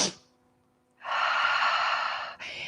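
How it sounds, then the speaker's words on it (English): Big nasal sniffs from a kids' bunny-breath yoga exercise, a sharp close intake at the start, then a long steady breathy rush that dips and resumes near the end, with no talking. "we're going to sniff 3 times"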